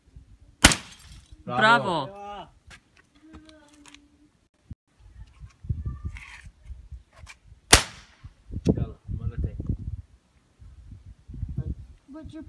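Bottles of glass shot outdoors, with two sharp gunshot cracks and shattering, spaced several seconds apart, while people talk between and over the shots.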